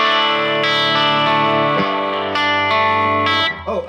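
Electric guitar played through a Line 6 Pod Go on its deluxe amp model, with a TJM 75 fat and SM75 cab, miked with an SM57 and lightly washed in spring reverb. Sustained, thick chords ring loud and alone, changing every second or so.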